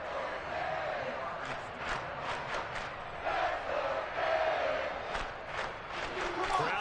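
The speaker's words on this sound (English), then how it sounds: "Crowd getting in it a bit already." Stadium crowd in a football video game, a steady roar of cheering with bursts of clapping and shouts, heard under a commentator's voice throughout.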